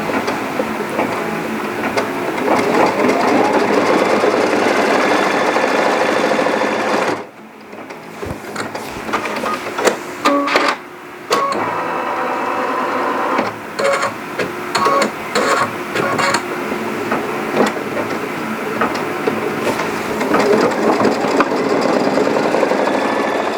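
A sewing machine stitches backward to tack down fabric on a Valentine's wall hanging, its steady mechanical whir running continuously and close, with one short pause before it resumes.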